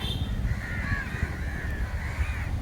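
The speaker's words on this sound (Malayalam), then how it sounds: "ഇതാണ് കാക്ക ഒറിജിനൽ കാക്കകള്" Several crows caw repeatedly nearby at Thoppumpady beach in Alappuzha, Kerala, harsh calls over a constant low rumble of background noise.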